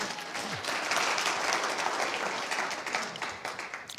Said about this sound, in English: okay, clap one more time.